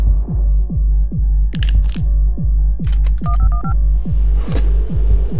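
Telephone dialing in Buckshot Roulette: a steady run of loud, evenly spaced low thumps under a few short tonal dial beeps, with brief clicks and a rushing burst near the end.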